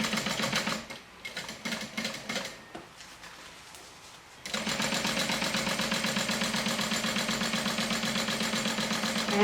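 A sewing machine stitches a vinyl bag seam in rapid, steady bursts. It starts and stops in short runs, pauses, then settles into one long continuous run of close, rhythmic needle chatter with no talking.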